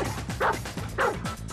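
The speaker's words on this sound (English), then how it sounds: "So now he'll bark." A dog barks insistently for a tennis ball, giving three loud yipping barks at a steady, roughly half-second pace, close to the microphone with no talk over it.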